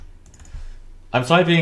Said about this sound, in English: Like I'm typing